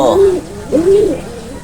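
Two low, throaty racing pigeon coos roll out close by, each a soft rising-and-falling call, the second longer than the first.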